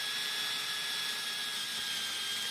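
A power drill bores a hole in wood held in a woodworking jig, giving a continuous, even high whir that stays loud and close for a couple of seconds with no speech.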